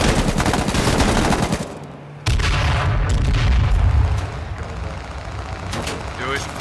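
Heavy gunfire in the battle royale game H1Z1, with loud rapid bursts and booming shots that pause briefly and then resume as sustained, dense firing up close, later thinning out.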